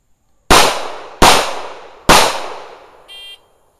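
Three sharp, loud gunshots fired on command, evenly spaced about a second apart, each with a ringing decay, followed by a brief electronic beep; no talk during the shots.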